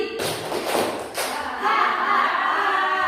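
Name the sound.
audience clapping three times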